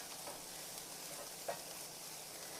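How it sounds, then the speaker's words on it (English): Garlic powder and butter sizzle steadily in a hot skillet, a close, continuous hiss of frying with a soft stir, no voices. "I'm just trying to toss the garlic powder in with the butter so that it's not directly sitting on the hot skillet."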